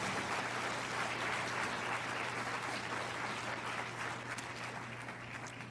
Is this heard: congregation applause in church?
yes